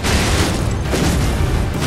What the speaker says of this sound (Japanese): え、爆発した